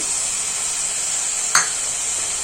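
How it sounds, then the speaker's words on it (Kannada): Tomatoes tipped into hot oil with fried greens give a steady hiss of sizzling, with a brief louder crackle burst partway through as they hit the pan; no talking. "ಸೊಪ್ಪೆಲ್ಲ ಚೆನ್ನಾಗಿ ಫ್ರೈ ಆಗಿ ಸ್ವಲ್ಪ ಆಯಿಲ್ ಬಿಡಬೇಕು ನೋಡಿ ಇವಾಗ ಬಿಟ್ಟಿದೆ ಆಯಿಲ್ ಇವಾಗ ನಾನು ಒಂದು ಕಪ್ ಟೊಮೊಟೊನ ಸೇರಿಸ್ಕೊತಾ ಇದ್ದೀನಿ"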